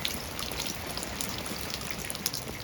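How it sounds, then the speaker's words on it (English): Light spring rain showers in a desert front yard make a steady, soft patter with scattered drops ticking throughout. "We are having some spring showers today in the desert, which is always nice, and my tree is getting a good drink of natural rainwater."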